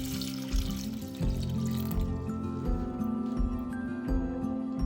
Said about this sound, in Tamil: இப்போ பொட்டேட்டோ அவிகிறதுக்கு ஏற்ப தண்ணி விடுறேன்.